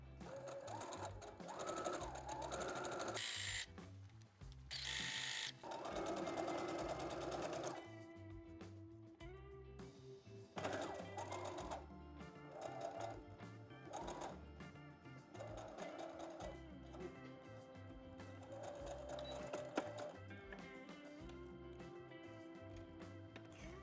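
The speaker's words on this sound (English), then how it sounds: "I'm going to sew like 5 millimeters from the edge" A sewing machine stitches a seam on beach cover-up pants about 5 millimetres from the fabric edge, its motor humming in steady runs that speed up and slow down, close and fairly quiet, with brief pauses.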